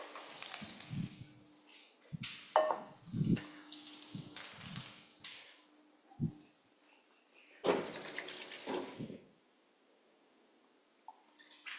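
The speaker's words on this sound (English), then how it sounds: "Quick hand wash after the butchering." Hands being washed under a running tap after butchering, with bursts of splashing water that stop and start, then near silence at the end.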